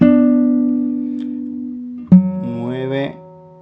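On a classical guitar, a long sustained note fades slowly, then the fourth and third strings are plucked together, ringing as a short two-note chord with a slight slide before another pluck.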